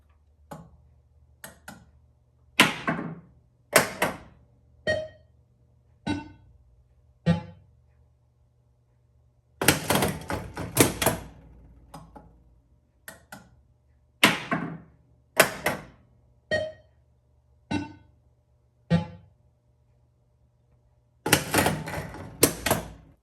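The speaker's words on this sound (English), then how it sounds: "I'm going to hit the start button, and we should see all the solenoids fire." Solenoids on a Gottlieb Close Encounters pinball machine fire one after another in sharp, loud mechanical clacks, some single, some in quick rattling bursts, with short silences between and a faint hum underneath.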